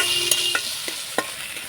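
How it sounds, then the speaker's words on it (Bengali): Ginger, green chili and chopped carrot are stir-fried in hot oil. A constant sizzle runs close and loud throughout, with several quick scraping strokes of a spatula at a steady rhythm. "এবার নাড়াচাড়া করে একটু ভেজে নেব।"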